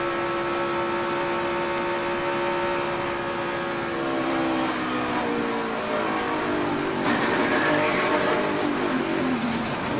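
A NASCAR race car engine during a crash, a loud sustained tone that drops in pitch as the driver downshifts, then turns rougher and noisier toward the end, with no talk.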